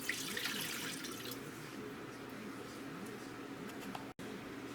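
Water pours into a container while whiskey sour jelly is being made, a steady close splashing trickle that runs almost without break before stopping briefly near the end.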